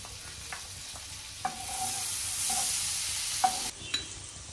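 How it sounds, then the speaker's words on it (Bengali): Chopped garlic frying in melted butter in a frying pan, a quiet steady sizzle with a few sharp utensil taps and scrapes against the pan, close by. "বাটারটা গলে গিয়েছে, এখন অ্যাড করে নিচ্ছি রসুন কুচি।"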